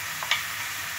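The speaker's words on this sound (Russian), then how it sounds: "Переносим нарезанный лук в сковороду и будем ее обжаривать." Chopped onion sizzles in hot vegetable oil in a frying pan, a steady close hiss with a brief stir scrape partway through.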